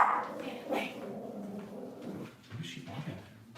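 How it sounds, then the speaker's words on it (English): A dog barks and growls in short bursts around the house while a person talks over it repeatedly. "What are you barking at?"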